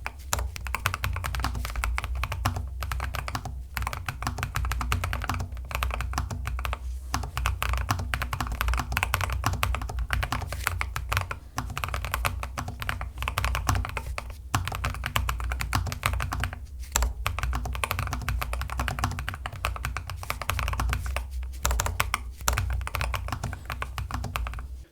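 Continuous fast typing on a Lofree Flow 2 mechanical keyboard, dense close-up clacks and taps running steadily with only tiny pauses.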